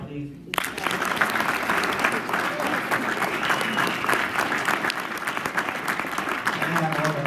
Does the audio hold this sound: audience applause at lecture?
yes